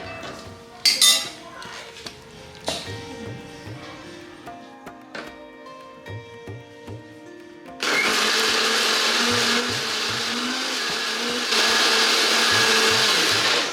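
A loud electric blender whirs steadily, blending soya chunk curry paste after a stretch of quiet kitchen clinking, its motor droning on for several seconds with slight shifts in pitch.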